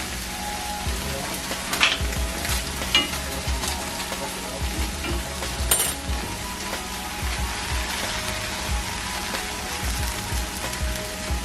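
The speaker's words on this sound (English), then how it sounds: "getting it nice and fried." Pulled pork frying in a hot pan, a dense continuous sizzle and crackle with small popping bursts throughout, close and steady with no talking.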